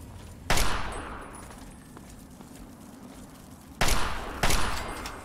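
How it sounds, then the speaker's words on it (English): Assault rifle fire in the video game Fallout 3: three sharp loud bursts, one early and two close together near the end, with a quieter ambient gap between them and no talking. "I worked really hard to repair this, this assault rifle."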